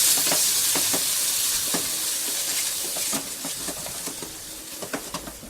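Grated paneer stuffing sizzles in a hot pan while being stirred, a steady bright hiss with soft scraping taps of the spoon, close and without voices.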